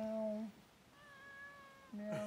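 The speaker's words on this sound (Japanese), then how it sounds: "猫の鳴き声また聞こえた。" A domestic cat meows repeatedly at close range, with long drawn-out cries separated by brief pauses while it is being petted.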